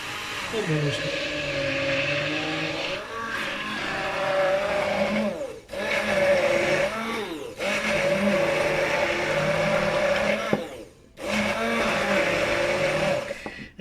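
An electric blender whirring through pesto with added olive oil, a loud, close motor drone running in several long bursts separated by brief stops, with a voice faintly present.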